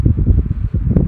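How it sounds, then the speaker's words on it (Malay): Close, steady whirring of an electric fan, recorded through a DJI Mic Mini, with a rapid pulsing flutter, loud and alone, like air beating past spinning blades. "Tapi korang akan rasa dengar ni lah bunyi angin kipas ni."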